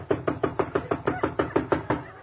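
Steady knocking on a door, about a dozen evenly spaced raps in quick succession, close and clear with no talk over it.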